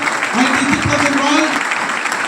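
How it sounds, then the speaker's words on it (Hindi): Short burst of audience applause at a motivational business event, dense clapping throughout, with a voice speaking over it. "एक बार जोरदार ताली चाहता हूँ"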